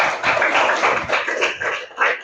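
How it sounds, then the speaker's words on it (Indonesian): A classroom of students claps for a group, a dense burst of close, overlapping hand claps in uneven waves that fades toward the end. "Untuk kelompok 3 coba kita beri aplaus untuk kelompok 3."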